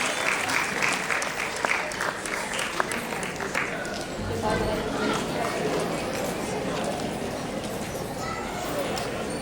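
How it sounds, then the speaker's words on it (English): An audience at a Diwali celebration gives a round of applause, a fairly distant, steady patter of clapping with voices murmuring through it. "Let's give them a round of applause."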